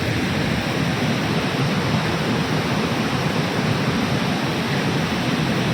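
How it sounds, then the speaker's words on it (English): Pykara Waterfall in the hills near Ooty roars in a loud, dense, unbroken rush of falling water, close and steady throughout with no voices over it. "the waterfall, the beautiful waterfall"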